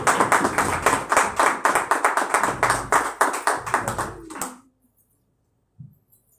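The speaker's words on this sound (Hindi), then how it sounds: "भरपूर तालियों में अपने पास्टर साहब को वेलकम कहते हैं" Church congregation clapping to welcome their pastor at a Sunday service, a brisk rhythmic burst of many hands that stops abruptly after about four and a half seconds, followed by near silence and a single faint knock.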